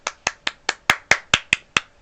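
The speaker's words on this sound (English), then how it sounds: "A nice round of applause for Juan Ponce de León." A single person claps nine times, crisp and close, in a slow, even rhythm, as brief applause after a class history project. No voices are heard.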